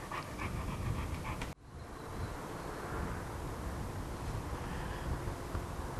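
A small rescue dog pants rapidly and steadily up close, with a brief dip in the sound partway through before the panting carries on.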